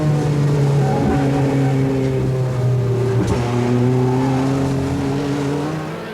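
Touring race cars of the 1988 European Touring Car Championship at Silverstone roar close by approaching the Woodcote complex, with several engines droning at once and pitch shifting as they jostle for position.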